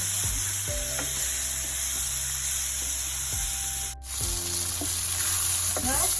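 Bitter gourd sautéed and stirred in a pan for a vegetarian lunch, a constant loud sizzling hiss with repeated low scraping stir strokes, close up and without talk.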